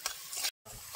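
Curry leaves sizzling with onion and green chili in hot oil while semolina is being made, a close crackling fry with stirring that cuts out briefly and resumes.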